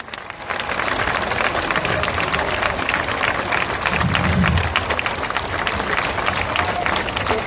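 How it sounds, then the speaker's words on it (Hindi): Sustained applause from an audience at a political speech rally, dense continuous clapping from a large crowd filling the whole stretch, loud and near, with crowd murmur mixed in. "जोर से ताली बजाइए।"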